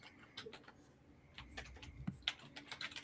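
A computer keyboard is typed on in quick, irregular bursts of light clicks, quiet and close, with no voices over it.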